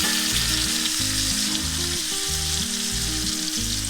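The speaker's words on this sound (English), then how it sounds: "We're going to go ahead and put the rosemary and butter into the pan." Butter and fresh rosemary sizzle in a hot steak pan, a steady loud frying hiss that runs unbroken for a few seconds, accompanied by low stepped tonal background music and no talking.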